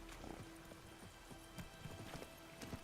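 Horse hooves in The Witcher 3 clip-clop in an irregular trotting rhythm, fairly quiet, over a faint steady hum with a brief tone in the background.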